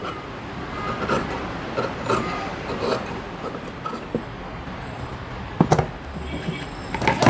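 Scissors cut straight through blouse fabric, making a few separate crunchy snips with quiet handling rustle between them and a sharper cluster near the end.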